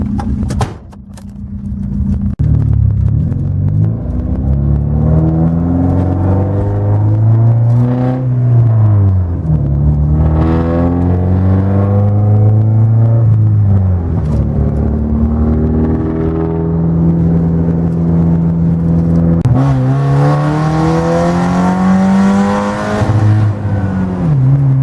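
A Volvo 740 GLE with its 16-valve engine revs loud and close, the pitch sweeping up and falling back in repeated pulls, with a harder climb near the end.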